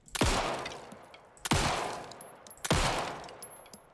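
Three loud, sharp gunshots from Alan Wake 2, each a sudden blast with a ringing tail, spaced roughly a second and a half apart with no talking.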